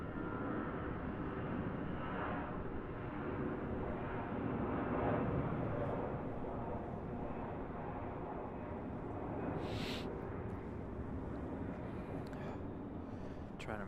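Airliner departing Raleigh-Durham International Airport, a distant steady jet rumble that swells slightly midway, with a few brief clicks and bumps near the microphone.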